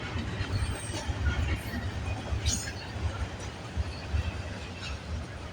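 A CN freight train rolls past in Vaughan, Ontario, with a steady low rumble and rattle of railcars, faint squeals and clanks rising above the continuous roar.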